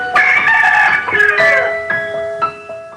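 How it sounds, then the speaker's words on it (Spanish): A fighting rooster crows loudly and close, a drawn-out harmonic call followed by shorter trailing notes, heard alone. "un hermoso gallo de pelea, que hoy todos conocemos, el caballero Carmelo"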